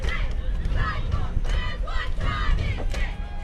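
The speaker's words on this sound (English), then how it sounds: "Probably hear a little bit of cheering because the disciple cheerleaders are up in the stands leading cheers now" Cheerleaders up in the stands lead cheers at a varsity high school football game, LCA Chargers vs Central Virginia Disciples. A crowd shouts and chants rhythmically in steady bursts, moderately distant, with broad crowd noise throughout.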